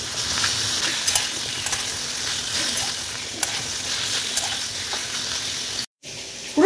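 Cubes of paneer frying gently in hot oil in a pan for a vegetarian curry, a steady close sizzle and crackle with occasional stirring scrapes, briefly cutting out near the end.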